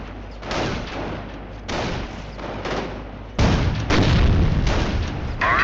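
A Sherman tank cannon fires in the Company of Heroes war game amid battle, with repeated heavy booms and rumbling blasts at irregular intervals, growing louder toward the end.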